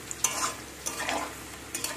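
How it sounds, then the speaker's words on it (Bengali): Soya chunks frying in oil over high heat, with a soft crackling sizzle and a few scraping stirs and clinks of a spatula against the pan, close up and quiet, with no voices. "হাই হিটে ভালো করে এভাবে লালচে করে ভেজে নেবেন।"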